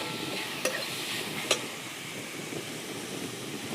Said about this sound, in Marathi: लालसर कलरवर असा चांगला कांदा भाजून घ्यायचा.